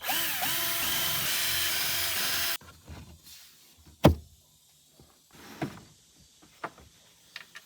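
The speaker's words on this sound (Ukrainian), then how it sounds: "або для прискорення можна використовувати шуруповерт" A cordless screwdriver drives screws with a loud, steady whirring buzz for a couple of seconds near the start. Quieter clunks and knocks follow, with one sharp bang.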